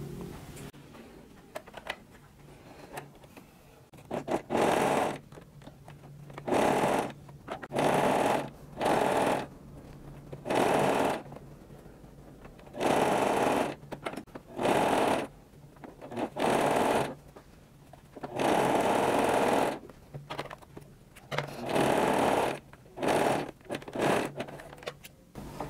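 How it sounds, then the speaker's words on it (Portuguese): A sewing machine runs a tight zigzag stitch, set to 3, attaching elastic to lycra on a high-waisted panty, in repeated bursts of a few seconds each with short pauses between them. "E aqui nós vamos passar um zigue-zague, ajustar no 3, mais juntinho para ficar o acabamento melhor"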